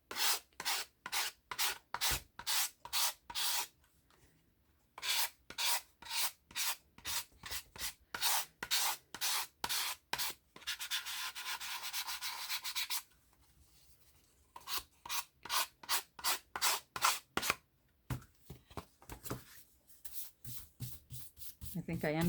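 Sandpaper on a flat sanding board rubs back and forth over a wooden writing board in fast, steady scraping strokes, loud and close, broken by brief pauses, with no talking.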